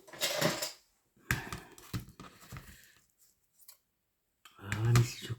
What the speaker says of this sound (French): Gros ciseaux.